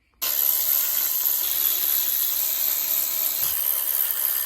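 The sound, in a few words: unbolting engine bolts on a Mitsubishi Montero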